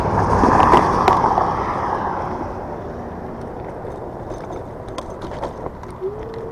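An Evercross electric scooter on solid tires rolls over a rough dirt trail, with a whooshing rumble that fades slightly and scattered bumps and rattles along the way.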